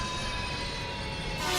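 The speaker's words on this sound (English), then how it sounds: "The train coming." A train rolls past in the video game Gotham Knights, a dense, continuous rushing rumble with metallic hiss that holds steady and swells slightly at the end, heard alone.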